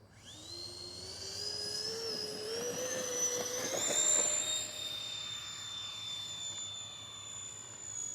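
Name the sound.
FMS A-10 Thunderbolt II RC EDF jet taking off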